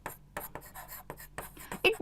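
Chalk or marker writing on a classroom board during a science lesson, with scratchy strokes in short bursts separated by pauses, fairly close and clear.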